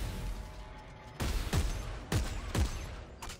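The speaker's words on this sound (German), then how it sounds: "hier liegt noch C4, soll ich das explodieren lassen?" C4 charges in the sci-fi horror game Dead Space 3 go off as a rapid string of four or five sharp, booming blasts, each with a short low rumble, loud and close.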